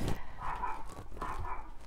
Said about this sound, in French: Mon chien s'emballe